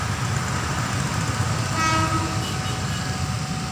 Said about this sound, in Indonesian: Itu dia ya keretanya teman-teman